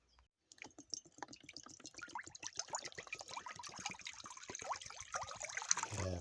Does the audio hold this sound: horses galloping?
no